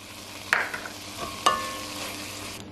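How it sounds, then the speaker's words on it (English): Sausage browning in a pan for keto zuppa toscana soup: a soft, steady sizzle with two sharp clinks of a utensil against the pan, close by and alone. "So while my sausage is browning"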